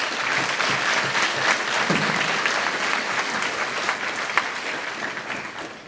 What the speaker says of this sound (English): Let's give your families a round of applause.